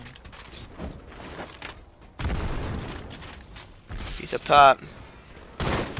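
Gunfire and grenade blasts from the video game Halo, with bursts of rifle fire and sharp explosive hits scattered across a few seconds while players talk over the action.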